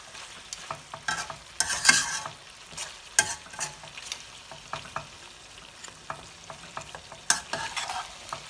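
Mutton black pepper roast with onions stirred in a pan over low heat, steady sizzling frying under repeated scraping strokes and spatula knocks against the metal, close up with no talking.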